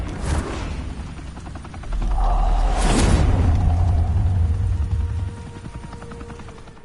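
Gunfire in a Batman video game comes as sharp bursts followed by a heavy, sustained low rumble and roar, loud and close, fading out after several seconds.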